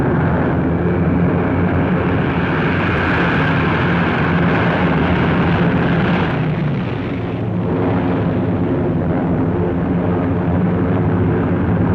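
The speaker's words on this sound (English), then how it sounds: "Again on the morning of July 25th, the planes came" Waves of 1944 warplanes drone overhead on the morning of Operation Cobra in Normandy, a loud, dense, continuous engine roar that swells slightly and never lets up.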